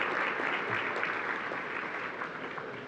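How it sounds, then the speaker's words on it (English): Sustained applause from a chamber of commerce dinner audience, dense steady clapping filling the room for the full stretch, loud and even with no voices above it. "let's have a round of applause for our sponsors"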